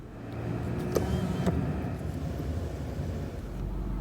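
A car rolls slowly into Pisgah Cemetery in Taylor, Florida, its engine a low steady drone close by, with a couple of faint clicks or knocks partway through and no talking.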